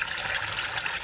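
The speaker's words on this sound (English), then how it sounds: "Fill it with water" Water runs from a tap into a pot in a steady, hissing stream, faint and unbroken for about a second.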